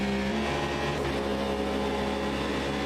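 Race car engines in the Automobilista 2 racing game, a loud continuous droning roar of several cars running together with steady revving throughout, no voices.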